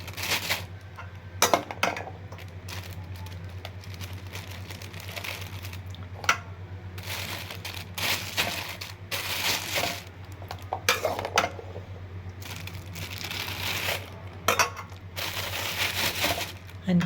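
Blanched peas packed into plastic bags in a kitchen, with repeated crinkling of plastic, rustling of peas and occasional clinks of dishes, close and irregular over a steady low hum, with someone talking between the bursts.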